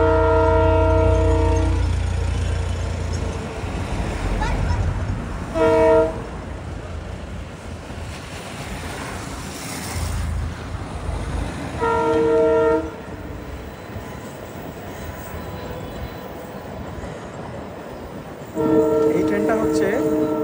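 The Madurai–Rameswaram passenger train crosses Pamban Bridge, its horn sounding four distinct blasts, roughly every six seconds, over a steady rolling rumble heard from a short distance.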